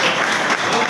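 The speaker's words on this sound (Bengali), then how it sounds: "তো এই লাইনটার জন্য আজকে প্রথম একটা হাততালি চাই ভাই" Audience applause at a motivational talk on dreams, a short burst of dense clapping that fills the room evenly and loudly, with no voice over it.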